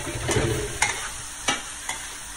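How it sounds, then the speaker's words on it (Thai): Vegetables stir-fried with oyster sauce in a pan, sizzling under several sharp scrapes and taps of a spatula at a steady pace. "ผัดทุกอย่างคลุกเคล้าเข้ากันค่ะ"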